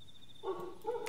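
A dog barks twice in the Turkish horror video game Apartment No: 129, set in a stray-dog-filled street in Ankara; the two short barks are faint and distant, with a thin hum beneath them.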